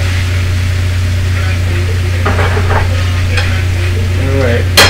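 Butternut squash, sweet potato, zucchini and onion seasoned with salt, white pepper and oregano sizzle steadily in a pan, a constant close frying hiss with occasional stirring scrapes and a brief louder clatter at the end; no one speaks.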